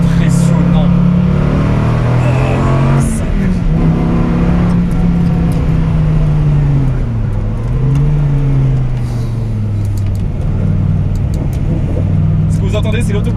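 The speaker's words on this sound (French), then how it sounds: "Vous entendez, c'est l'autobloquant à l'arrière" Dodge Viper SRT-10 on a straight road, its rear limited-slip differential and engine giving a loud, steady drone with shifting low tones, heard from inside the cabin with a voice talking over it.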